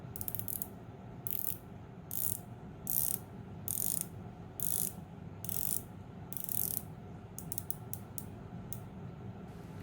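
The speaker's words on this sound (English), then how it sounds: "The clicks are consistent throughout and it feels absolutely amazing to rotate." A San Martin SN017-G Submariner-style watch bezel being rotated, giving bursts of crisp, evenly spaced ratchet clicks in rhythmic groups close to the microphone, with no talk over them.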